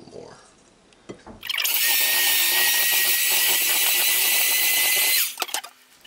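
An electric mixer whirs loudly and steadily for about four seconds, blending sweet potato pie filling made with eggs, melted butter and cream, then winds down to quiet.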